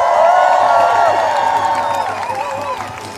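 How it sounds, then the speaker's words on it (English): A crowd at an outdoor protest outside the US Supreme Court cheers and claps loudly, whoops and shouts rising over sustained applause before it gradually fades. "Give yourselves a round of applause."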